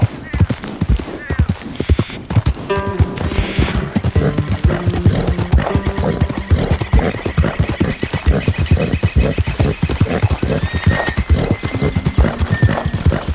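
Rapid, rhythmic hoofbeats pound close by throughout, with a horse neighing several times over the galloping, in the video game Red Dead Redemption 2.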